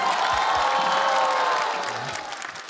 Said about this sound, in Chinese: 感谢大家热情的掌声啊